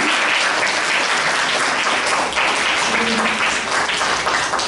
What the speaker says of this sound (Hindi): तो आप सबको पुनः इस बालिका दिवस की बहुत तालियां बजाएं।